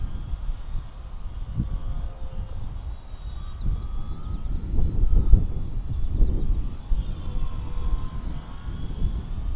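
A Shark Bait model airplane flies overhead outdoors, its small motor a faint, steady droning whine that swells and fades gently against wind and ambient noise, with no voices.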